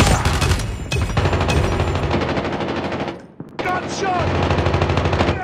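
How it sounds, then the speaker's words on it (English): Rapid automatic gunfire crackles almost continuously from a Call of Duty multiplayer hardpoint match, loud and close, with a brief pause before the shooting resumes. "Gunshot!"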